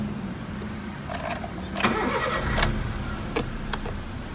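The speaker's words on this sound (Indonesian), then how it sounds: "kita dengerin ya suara mesinnya." A white 2015 Honda Brio Type E with manual transmission, driven in the city, cranks and starts, its engine catching with a burst of noise and then settling into a steady idle nearby, with no talking.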